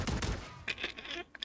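Riveter shotgun fired in Warzone on Rebirth Island: a few sharp, close blasts in quick succession with a short gap before two more, over game background noise.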